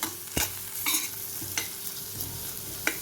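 Pirandai (adamant creeper) sautéed in a pan sizzles up close while a spoon scrapes and stirs it in roughly five distinct strokes over a continuous frying hiss.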